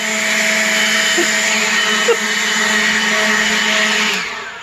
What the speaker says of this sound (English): Let's try and see what happens when I put the blower on this.